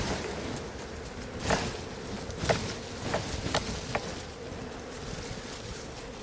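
A swarm of honeybees buzzing steadily close by during a spring capture into a hive box, with a few louder passes of individual bees standing out over the constant hum.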